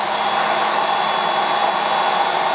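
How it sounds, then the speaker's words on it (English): A Wolf tool post grinder motor, rated around 8,000 RPM, runs at steady speed with a constant whirring hum and fan-like rush, loud and close, with no change in pitch throughout. "Quite a talky little motor that."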